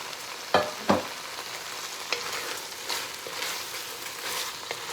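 Pre-cooked sausage frying over high heat for Cajun pastalaya gives a steady, close sizzle, with a couple of sharper bursts early on as pieces hit the hot pan.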